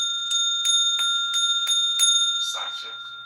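A small bell is struck about seven times in an even rhythm, each ring bright and sustained with clear ringing overtones, close and alone, ending in a softer jangle.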